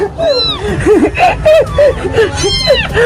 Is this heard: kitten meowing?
yes